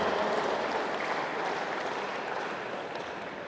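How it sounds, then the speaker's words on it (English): Audience applause at a basketball championship night, a dense steady wash of clapping that fades slightly toward the end, with no talk over it. "round of applause to all our honored guests here tonight"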